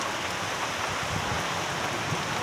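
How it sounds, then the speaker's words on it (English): Heavy storm rain pours steadily and loudly, overflowing eaves troughs, as a dense, unbroken hiss of water with no talk. "My neighbor's eaves troughs can't handle the rain,"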